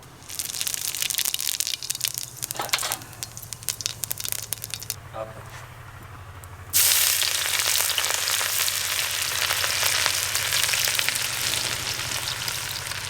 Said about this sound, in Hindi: मैंने इसमें तेल डाल दिया कढ़ाई में